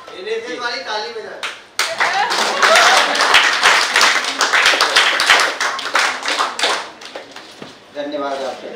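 A standing audience claps after a special lecture at NITTTR Bhopal. Loud, sustained applause with sharp individual claps runs for about six seconds, with someone speaking just before and after it.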